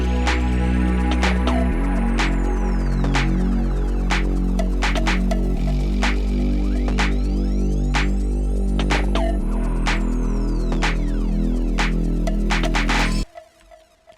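The instrumental breakdown of a dance track without vocals: deep sustained bass, layered synth chords, sweeping risers and scattered percussion hits, loud and continuous before dropping off abruptly.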